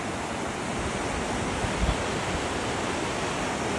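A hidden waterfall at Discovery Bay, Hong Kong rushes as a loud, dense, continuous roar of falling water, close and unbroken with no talk.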